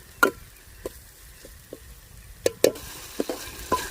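Ground masala paste being sautéed in oil for mutton curry, with soft sizzling under scattered sharp scrapes and stirring clicks of a ladle against the pan, close and fairly quiet.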